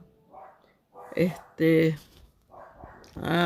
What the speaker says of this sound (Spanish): disculpen que ese perrito está latiendo